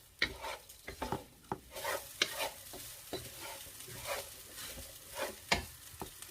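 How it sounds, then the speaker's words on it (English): King prawn fried rice stirred in a hot pan, repeated scraping and tossing strokes in an irregular rhythm over a soft continuous sizzle, close and moderately loud. "So you're going to mix it thoroughly."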